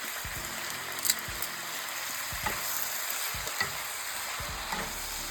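Three or four Kashmiri red chillies sizzle in a pan while paneer lababdar is cooked, a close continuous hiss broken by a few stirring scrapes and clinks, with no one talking.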